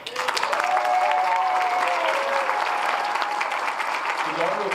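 An audience applauds at the introduction of a Democratic congressional district forum, a sustained, dense burst of clapping from a crowd that holds evenly throughout.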